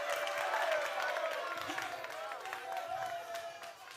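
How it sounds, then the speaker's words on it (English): Audience applause at a Ghana's Most Beautiful show, a crowd clapping steadily at moderate distance that slowly tapers, with a voice talking over it. "Jigbari, you are still applauding."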